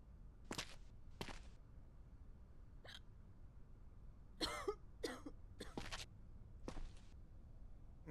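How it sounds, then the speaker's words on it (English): A sick female character in a quarantine video game coughs and hiccups in sharp separate bursts, several spaced out over several seconds with one quick cluster near the middle, loud and close against a quiet background. "She got a pretty bad cough going on"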